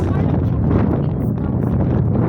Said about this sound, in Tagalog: Ganda ang simoy ng hangin guys.